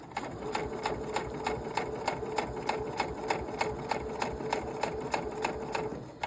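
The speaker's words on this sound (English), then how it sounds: "hold it down with the presser foot, and sew along this edge right here" Sewing machine stitching along the edge of a fabric head scarf, a fast steady mechanical chatter of evenly spaced needle strokes with an underlying motor whine, close and continuous.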